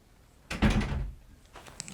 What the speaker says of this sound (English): Shut my door.